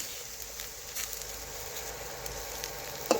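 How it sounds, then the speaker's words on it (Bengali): Bitter gourd slices fry in a pan with a soft continuous sizzle and faint crackle, one brief louder clink or turn near the end, no voices. "এইভাবে একটু যদি উল্টে নেওয়া হয় তাহলে সমস্ত করলাগুলোই দেখুন খুব সুন্দরভাবে ভাজা হয়ে যাবে"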